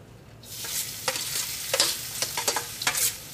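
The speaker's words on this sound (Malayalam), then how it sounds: "ഇനി നമുക്ക് ചൂടായ എണ്ണയിലേക്ക് ആദ്യം തന്നെ നമുക്ക് തേങ്ങ ഇടാം" Grated coconut frying in hot oil in a pan, with a steady crackling sizzle and a run of quick stirring scrapes, close and fairly loud.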